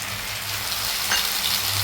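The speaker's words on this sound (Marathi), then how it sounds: "त्यात आपला एक कांदा भारताचा सोडायचा, त्याला चांगला आता भाजून घेऊया" A chopped onion fries in a pan with a dense, continuous sizzle, close and loud, steady for the whole short stretch with no voices.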